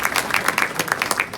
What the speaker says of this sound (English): A round of applause for this view.